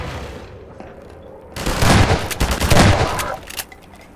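Enemy soldiers fire on the player in the video game Half-Life 2: loud, dense bursts of automatic gunfire erupt after a quiet stretch, rattling for about two seconds before tapering off.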